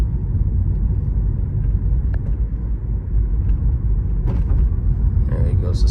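Lexus CT200h driving over a big crack on a rough road, a steady low road rumble with a brief thump and faint knock from the suspension, close and continuous, with no voices.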